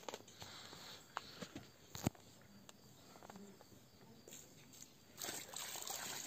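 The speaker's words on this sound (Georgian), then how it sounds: "აი ესე ვასხოთ ნელ-ნელა წყალს, იწოვს." Water trickled slowly into a dry mix during work on a dog enclosure, with soft intermittent pouring, a few sharp knocks and a louder splashing stretch near the end.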